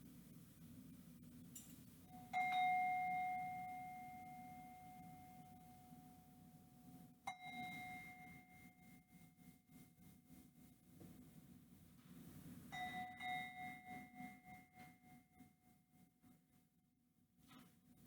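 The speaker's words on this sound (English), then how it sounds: "Remember, you come up after you hear the bell 3 times." A mindfulness bell rings three times during a quiet yoga and mindfulness session. Each clear, sustained metallic tone decays slowly, with long pauses of near silence between strikes.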